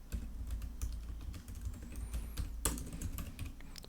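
Keys clatter steadily on a computer keyboard as an npm install command is typed in, with quick, close taps and one sharper keystroke near the end, no voices present.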